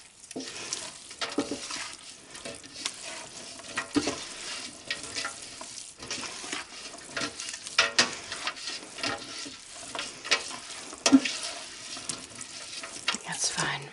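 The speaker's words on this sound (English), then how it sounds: "Let me mix it all up." Raw sheep's milk being stirred by hand for Wensleydale cheese, a steady sloshing and swirling of liquid with scraping strokes running throughout, close and moderately loud.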